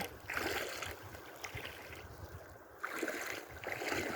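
Bokaiya river flowing through forest in Makwanpur district, a soft, steady rush of water with gentle surges, heard faintly and alone.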